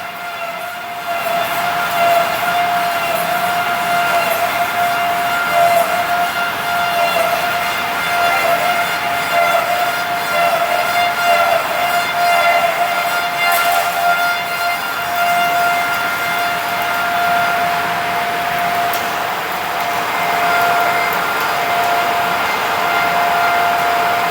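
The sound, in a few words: machine doing the finish cutting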